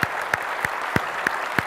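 Audience applause at a tech conference session, a dense wash of clapping with a few sharp, evenly spaced claps standing out nearby, brief and with no talking.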